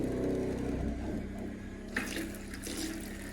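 Water running through maple syrup equipment, a steady close gush and trickle with a brief splashy surge partway through, no talking.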